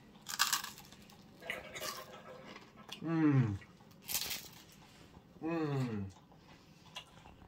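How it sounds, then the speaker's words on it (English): Crisp crunches of biting into toasted Pan de Cristal bread, several short bursts spaced irregularly, close and fairly loud, with tonal voiced sounds between the bites. "And now, look at the crunch, yeah."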